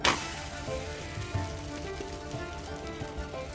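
Kaipathiri dough frying in a hot pan, a steady, even sizzle that holds close and fairly quiet throughout, with no talking over it.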